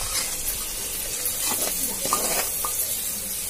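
Fish roe frying in a pan makes a continuous close hiss and sizzle with a few faint clinks, steady throughout.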